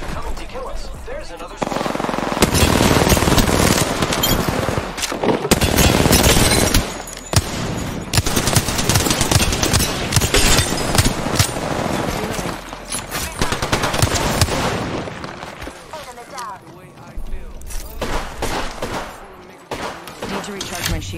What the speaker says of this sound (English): Those were some shots right there